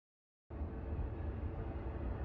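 Train sound effect played over a Minesweeper game stream, a steady rumbling rail-car drone that starts abruptly and holds at an even level to the end, with no talk over it.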